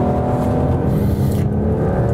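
A 2021 BMW 4-Series drives through a corner, its engine giving a loud, steady droning hum with a smooth, even pitch, heard up close and without voices.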